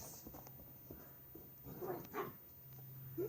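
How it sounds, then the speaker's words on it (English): Dogs barking and whimpering indoors, a few short yips and whines scattered over several seconds against a steady low hum, faint and fairly distant. "You goddamn moronic dogs."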